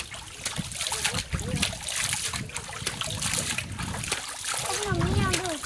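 Water splashing in a forest stream as someone washes their face, with repeated splashes and trickles, while a person talks over it.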